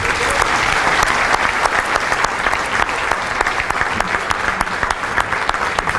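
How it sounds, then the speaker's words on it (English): Loud welcoming applause from a chamber of commerce breakfast audience greeting a football coach, a dense steady roll of clapping with a few sharp near claps, holding at full strength throughout. "let's show our support and appreciation and give Coach Diaco a big welcoming round of applause"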